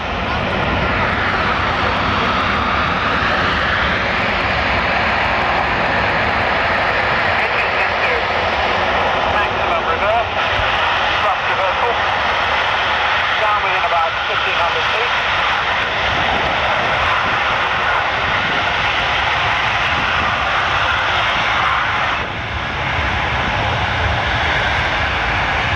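C-17 transport aircraft engines roar loud and unbroken during a short-field performance at an RAF Leuchars air show, a sustained jet rumble that barely varies across the whole stretch, with a voice faintly audible beneath it.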